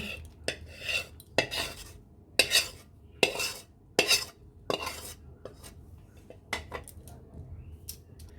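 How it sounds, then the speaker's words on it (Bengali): Popcorn tossed and mixed with cooled caramel in a pot, heard as a series of sharp spoon scrapes and clinks against the metal in an uneven rhythm, close and alone. "এখন ভালোভাবে পপকর্নগুলো এর সাথে মাখিয়ে নিতে হবে"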